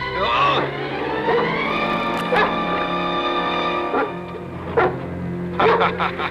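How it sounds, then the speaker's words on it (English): Dogs bark and yip in a few short bursts at an outdoor night scene from a 1980 TV film of The Legend of Sleepy Hollow, set over a sustained orchestral score with someone speaking in between. "Nice doggies."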